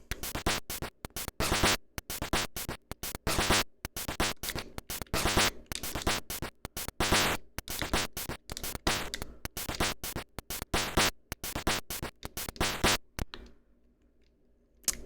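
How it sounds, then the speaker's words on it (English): A Game Boy's LSDj tracker plays a noise-channel snare fill, a rapid run of loud, harsh digital noise bursts in tight rhythm that stops abruptly near the end, with no talking. "let's like put in a little kind of snare fill."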